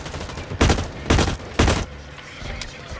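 Rifle fire in the shooter game Blacklight: Retribution: three loud, close bursts of rapid shots spaced about half a second apart, followed by quieter background action.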